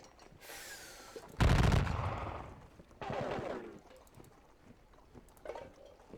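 Musket volleys from Napoleonic-era troops in a Battle of Dennewitz game crack out as a loud burst, then a second rolling volley and fainter scattered shots fade in the distance.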